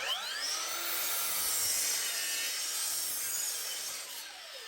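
A DeWalt 60V 12-inch sliding miter saw cuts through wood, its high whining blade steady and loud for several seconds before easing off near the end, with no talking.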